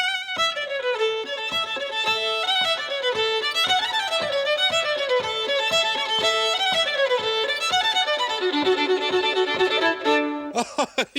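Violin played in a busy, fast passage of plucked or short bowed notes with a rhythmic pulse, loud and close, ending in a brief flurry.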